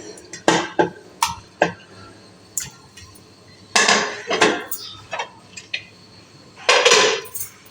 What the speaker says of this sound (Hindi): तो हम इसको डालेंगे कुकर में।